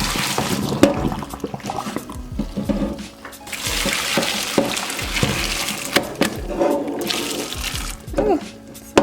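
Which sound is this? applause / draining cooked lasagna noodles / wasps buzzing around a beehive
draining cooked lasagna noodles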